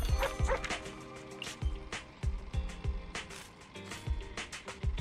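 Dog barking in the video game Zenless Zone Zero, a run of repeated sharp barks and yips mixed with clattering, clip-clop-like game effects, all fairly loud and busy.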